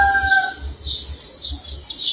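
A rooster lets out a brief crow that trails off at the start, followed by a steady high-pitched background hiss and faint low thumps with no talking.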